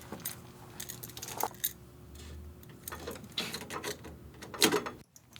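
Cable plugged into the analog line inputs of an audio interface for a summing setup: scattered small clicks, taps and rattles, fairly close and quiet, with no talking.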